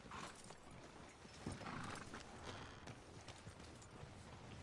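Horse hooves galloping in Red Dead Redemption 2, a continuous busy clatter of hoofbeats with rough ambient noise, fairly quiet overall, with no clear speech.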